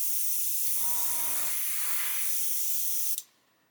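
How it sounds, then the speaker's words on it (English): An airbrush sprays Tamiya acrylic paint thinned with Acrylic Doctor in a steady, close, airy hiss lasting about three seconds, with a brief low buzz partway through, then cuts off sharply to near silence. "it's thinning it fine, it's spraying absolutely fine"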